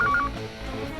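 Telephone keypad dialing tones: a few short, clear beeps in quick succession at the start, then a low background hum.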